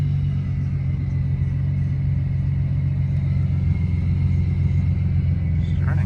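A twin-turbo Nissan 350Z engine idles in a parking lot, a steady close low rumble with a smooth even throb that holds throughout.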